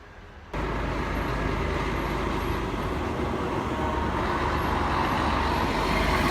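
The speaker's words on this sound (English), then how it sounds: "Nice truck that." A truck pulls in close by with a loud, steady engine rumble and road roar that kicks in suddenly and holds at a constant level throughout.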